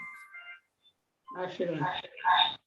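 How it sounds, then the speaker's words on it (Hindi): Mobile phone ringtone: a short melodic electronic tone sounds briefly at the start, faint and near, before people begin talking. "अरे मोबाइल आ रहा था।"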